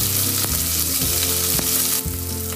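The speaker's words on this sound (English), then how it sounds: "the cloves, the cinnamon stick, the small cardamom, everything, let it splutter" Whole cloves, a cinnamon stick and small cardamom pods sizzle and splutter in hot oil for a paneer pasanda gravy, a steady close-up fry broken by sharp crackling pops.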